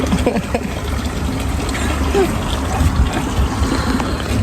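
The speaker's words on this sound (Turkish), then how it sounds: "Çeşmenin dışında Batuhan kafasını yıkadı." Water runs from an outdoor fountain tap while someone washes their head under it, a steady trickling splash with uneven gurgles, fairly close, in an open-air setting.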